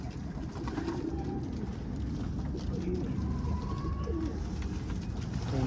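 Pigeons coo softly amid a steady outdoor background of rustling and low noise, the calls repeating intermittently throughout.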